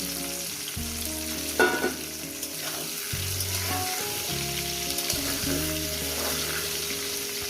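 Pointed gourd (potol) frying in a pan over medium heat with dried chilli and ground spice paste, a dense close sizzle with occasional stirring scrapes, steady throughout with no talk.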